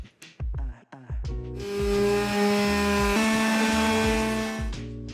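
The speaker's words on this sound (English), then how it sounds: "I used my power sander and a very gritty sandpaper" A power sander whirs up and grinds steadily against wood, its droning motor pitch holding and shifting slightly, after a few short starts and knocks.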